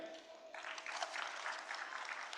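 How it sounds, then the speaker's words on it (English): A conference audience applauds, with a dense patter of clapping that starts abruptly after a brief tone and holds steady at a moderate distance. "Would request everyone to keep applauding them"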